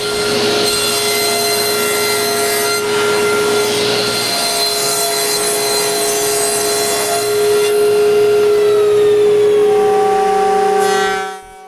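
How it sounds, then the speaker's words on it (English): A power saw cuts plywood back and side panels for a night stand, giving a loud, steady, high-pitched whining buzz that holds for about eleven seconds, rising slightly near the end before winding down. "Now I can cut the back plywood and the 2 side panels."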